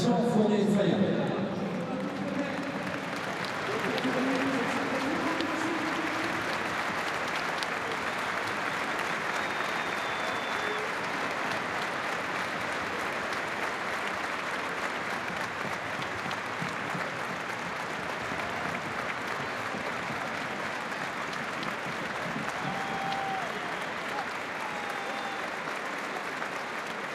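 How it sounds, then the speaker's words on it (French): A football stadium crowd at an OL versus OM Coupe de France match holds a minute of applause in tribute, a broad, sustained wash of clapping from thousands of fans that continues steadily and evenly throughout. "Merci de respecter une minute d'applaudissement en hommage à Jean Fournet-Fayard."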